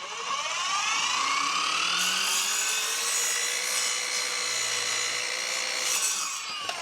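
A budget Power Wheels miter saw cuts through a wooden board, its motor whine rising as the blade bites in and holding a steady, loud grinding rasp throughout before easing off at the end.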